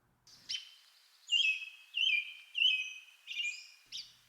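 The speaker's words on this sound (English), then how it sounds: "Here's the American robin's song" American robin song heard alone: a series of clear, warbled whistled phrases delivered in separate bursts with short gaps, fairly close and moderately loud over a quiet background.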